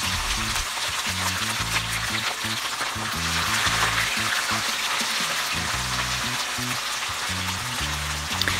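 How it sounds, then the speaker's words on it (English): Red snapper fish frying in hot oil for Jamaican escovitch fish, a steady dense sizzle and crackle, loud and close, with bursts of popping spread over the whole stretch. "When the oil is hot enough, add the fish."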